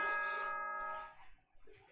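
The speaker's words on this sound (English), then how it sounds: "Ding dong, bing bong." A chime rings out in Danganronpa 2, a bright bell-like tone held for about a second before fading into quiet room noise.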